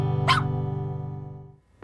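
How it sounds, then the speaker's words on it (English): A puppy in its crate gives one sharp bark followed by a sustained whining, whimpering tone that fades out, close and fairly loud. "if you're continuing to struggle with your puppy barking in their crate overnight"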